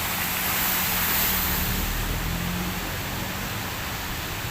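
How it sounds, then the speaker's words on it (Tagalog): Heavy rain pours down while floodwater overflows a drainage canal and runs across a street in the Philippines, a dense, steady broadband rush filling the whole clip. "sa sobrang lakas ng ulan ay napuno din yung kanal"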